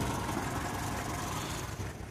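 Ford Zephyr MKIV V4 engine idling steadily at close range, a continuous low rumble with no talk over it.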